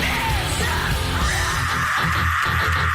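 A singer's sustained rock scream plays from a recorded song, a loud, raw yell held for a few seconds with no talk over it.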